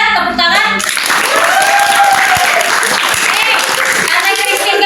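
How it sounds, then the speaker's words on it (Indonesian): A classroom of students breaks into applause during a history lesson, a lively mix of claps with voices calling out over it, following a brief moment of talk at the start. "Silakan semuanya tepuk tangan."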